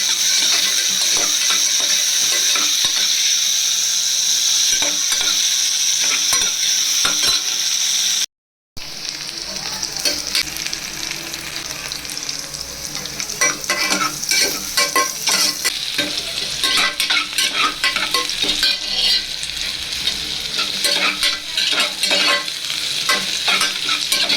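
Onion, garlic and curry leaves sautéing in a pan for sambar rice, a steady close sizzle with stirring scrapes throughout, briefly cut by a short gap of silence before the frying resumes.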